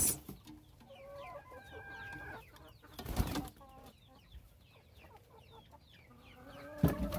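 Bantam hens cluck softly and steadily in a coop, with chirpy warbling calls repeating close by and a brief louder scuffle or flutter midway and near the end.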